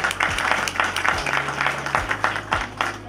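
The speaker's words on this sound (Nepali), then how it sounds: "अब यता उहाँको निम्ति पनि हामी ताली बजाउनेछौँ।" Applause from an audience at a wedding ceremony in Kathmandu, a steady wash of clapping at moderate loudness, with low tonal hum and bass beats running underneath.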